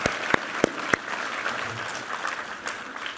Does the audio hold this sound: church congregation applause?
yes